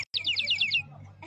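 A toy water whistle shaped like a little bird, sold at a rural fair in a town square, imitates a canary with a quick run of bright warbling trills, fairly close and clear over low crowd murmur.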